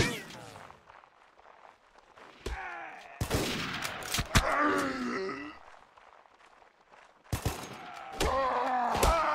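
Gunfire in the video game Mount & Blade: Warband, sharp broadband reports in a few clustered bursts around mid-clip and near the end, mixed with game grunts and someone talking over it.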